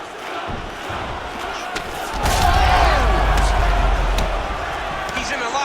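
Arena crowd cheering in a UFC video game on PS5, a steady roar of many voices that swells louder about midway and stays up, with thuds underneath.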